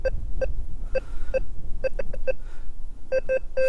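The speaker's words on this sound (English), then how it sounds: "So you get that little beep, little indication there's something there." A Rutus Alter 71 metal detector emits a string of short, clear electronic beeps in uneven bursts over a low background rumble, each tone quick and clipped.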